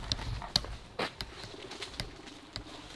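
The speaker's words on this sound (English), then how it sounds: "Them birds need to chill out, man." Pigeons or doves coo in a dark wood at night with a few short, soft calls spaced irregularly over quiet background noise.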